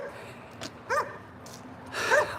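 Dogs barking during an evening walk, two short bursts of barks and yips at a distance, faint over quiet outdoor background.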